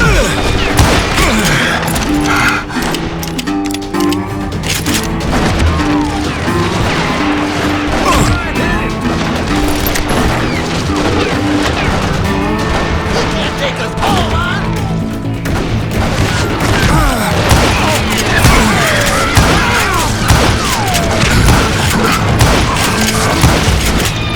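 Gunfire in the Western shooter Call of Juarez: Gunslinger, a dense, continuous barrage of shots and booming impacts running throughout at a steady loud level, with game effects layered in.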